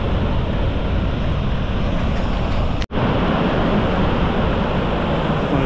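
Rushing water near a waterfall on Yosemite's Mist Trail pours as a steady, loud broadband roar, unbroken except for a brief dropout midway.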